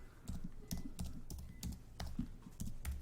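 Close, quiet keystrokes on a computer keyboard as a promo code is entered, a quick irregular run of about a dozen taps.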